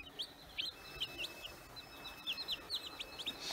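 Newly hatched Bresse chicks chirp in rapid, high-pitched peeps, many short calls overlapping at close range over a faint steady machine hum from the incubator.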